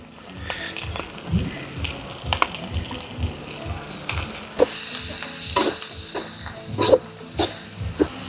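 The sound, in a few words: spices frying in a pan for mutton liver fry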